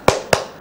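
A class claps hands three times in a steady, evenly spaced beat as part of the Tepuk COVID-19 clap chant; the claps are loud, crisp and close.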